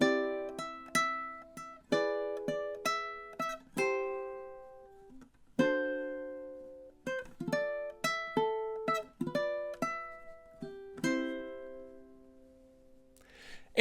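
A ukulele plucks the closing melody of a song, bright single notes and short bursts that ring and decay, with a lingering final note, soft and close with no talking.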